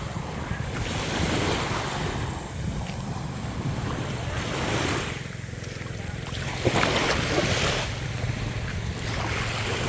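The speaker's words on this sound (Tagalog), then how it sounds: "Andun na guys yung dagat sa likod ng bakod na yan." Sea waves surging steadily behind a fence at Punta Almara Beach Resort in Ligao, a broad continuous wash of surf with wind buffeting the microphone, swelling and easing in soft cycles.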